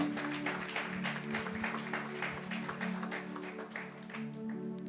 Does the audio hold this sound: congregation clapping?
yes